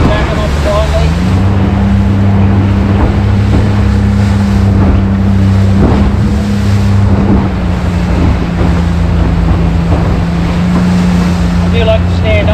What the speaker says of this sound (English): Surfing down a wave, backing off slightly.